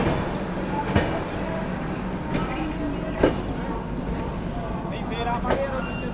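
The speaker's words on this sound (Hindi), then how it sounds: "तो अपनी महाराष्ट्र संपर्क क्रांति निकल चुकी है बांद्रा टर्मिनस रेलवे स्टेशन से।" The Maharashtra Sampark Kranti Express pulls out of Bandra Terminus, with a steady rolling rumble and sharp clanks of wheels over rail joints recurring every second or two, heard close from on board.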